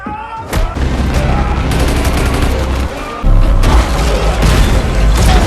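Film battle scene with rapid bursts of gunfire and heavy explosions in a burning warehouse, loud and dense, with a brief lull before another booming blast and continued shooting.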